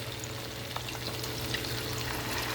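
Cheesy chicken fritters frying in a pan, a steady, even sizzle heard close up with faint pops and crackles and no voices.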